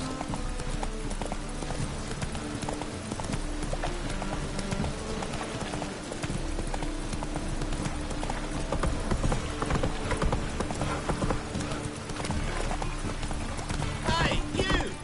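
Roach, a horse in The Witcher 3, gallops with continuous, loud, rhythmic hoofbeats under a busy music bed.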